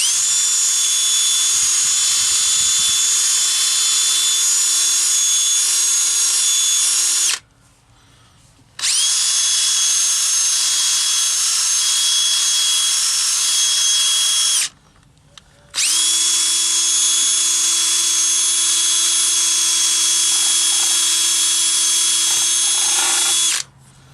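A powered buffing pad polishes stained, lightly scratched chrome in three steady high-pitched whirring runs, each several seconds long with short quiet gaps between, loud and close with no talk.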